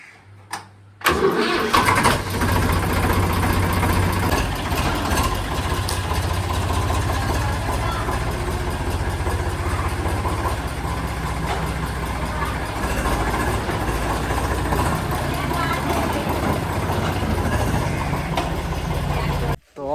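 Tractor engine cranks, fires and settles into a loud, steady diesel idle close by, running continuously with a rough low rumble and occasional knocks before abruptly cutting off near the end.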